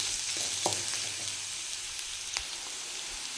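Onions fry in a pan for a potato palya served with dosa: a steady, close sizzle and hiss runs throughout, with a few soft stirring knocks and no voices.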